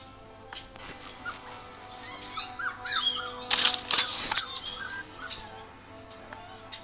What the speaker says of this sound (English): the puppy ain't going to stop crying